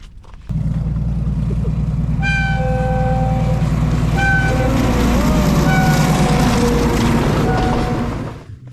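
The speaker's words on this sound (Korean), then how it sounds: "야 기차가 뭐 사막 한가운데로 뚫는구나" A train rolls through the desert on the Uyuni tour, a loud, close, continuous rumble of wheels and cars with steady whining, squealing tones riding over it, before it fades at the end.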